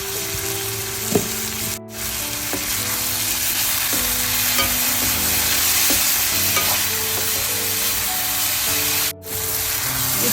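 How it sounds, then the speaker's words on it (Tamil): Chopped tomatoes and onion with salt sauté in a pan, a loud continuous sizzle close up with occasional stirring scrapes, with no talking over it. "சின்ன சின்ன வெட்டி வச்சிருக்கிற தக்காளியை இப்போ சேர்க்கிறேன். இது நல்லா வதங்கட்டும்."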